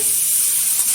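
Chopped ridge gourd and potatoes sizzle in hot oil in a kadai, a loud, steady, close hiss of frying that lasts the whole second.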